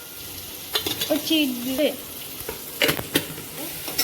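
Kantola vegetable curry with turmeric stirred in a pan, a few scraping and sizzling stir strokes at close range, with a brief spoken word partway through.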